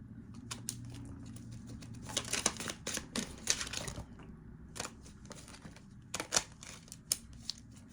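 Tarot cards shuffled by hand in a sequence of crisp riffling bursts and flicks, loudest in clusters near the middle and end, with a low steady hum underneath.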